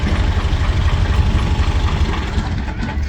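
A Ghazi 65 horsepower tractor engine runs steadily at idle on a farm where dung is loaded into a trolley, a continuous loud low rumble with a faint knocking texture and no talk.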